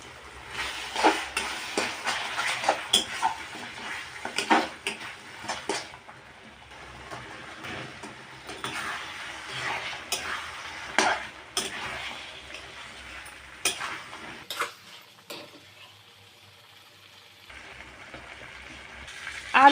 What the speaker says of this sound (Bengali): আলুটা দিয়ে কষিয়ে নেব